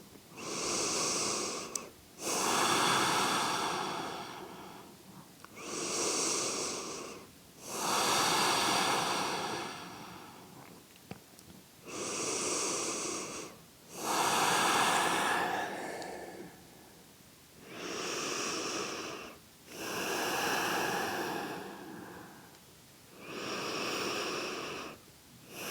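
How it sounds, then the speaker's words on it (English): Deep, slow breaths held in a yoga back bend, each long inhale and exhale rising and falling in a steady rhythm of about ten close, airy breaths with no talking. "stay here for 5 deep breaths"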